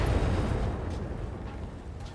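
A binary laser fires in the mech combat game RogueTech, giving a loud, close burst of low, rumbling blast noise that slowly fades over about two seconds, with no voices.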